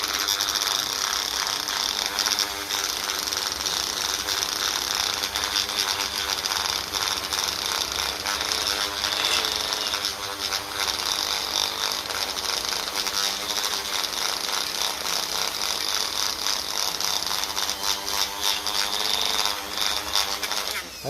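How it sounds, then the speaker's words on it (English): A power tool polishes a metal diaphragm housing from a 1954 Ferguson TEF 20 tractor, giving a continuous loud, gritty whirring grind with a steady rattle, running close by and without pause. "Let's polish this up a little bit and get a bit of clear coat on it."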